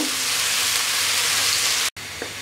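Chopped onions sizzle steadily in a hot pan with a dense, continuous hiss, broken by a brief cut near the end before the frying resumes.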